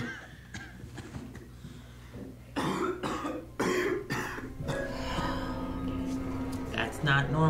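Several rough coughs, coughing up blood, and throat clearing sounds come in bursts, mixed with voices talking nearby.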